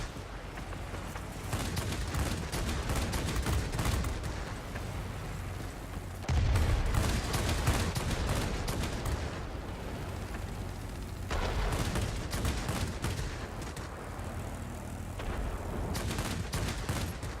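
Aircraft machine guns fire in long, dense bursts during a World of Warplanes dogfight flown in a Soviet Yak-3T fighter, loud continuous rattling that pauses briefly between bursts, with no speech.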